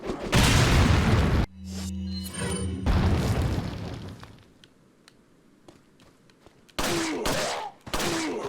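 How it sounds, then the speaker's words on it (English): Grenade blast and gunfire in Resident Evil 4, a loud burst of explosive noise, then a low humming pause and more booming, trailing into quieter ambience before two further loud bursts at the end. "I think we can go ahead and grenade these guys."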